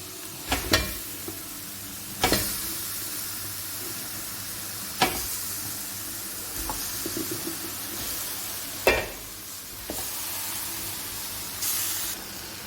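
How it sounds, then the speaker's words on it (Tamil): Leg-piece chicken is stirred into masala frying with coriander powder, chicken masala and fennel powder for a coconut milk gravy. A steady close sizzle runs throughout, broken by sharp scraping spoon strokes about every two seconds. "இனி நம்ம ரெடி பண்ணி வச்சிருக்க சிக்கனை போடுவோம்."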